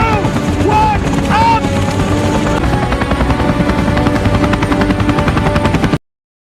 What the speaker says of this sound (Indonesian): Helikopter jemputan tiba.